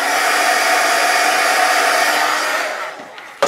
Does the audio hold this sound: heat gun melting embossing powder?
yes